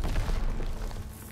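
A grenade explodes in the World War II shooter game Call of Duty WWII, a deep, loud boom that rumbles and fades over about a second.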